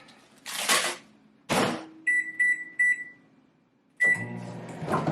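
Microwave oven sounds: a door clunks shut, three quick electronic beeps follow, then the oven starts with a low hum under a clattering thump.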